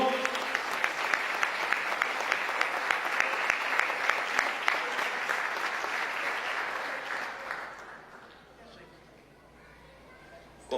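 A church congregation bursts into sustained, dense applause, with speech mixed in, that swells steadily and then tapers off toward the end.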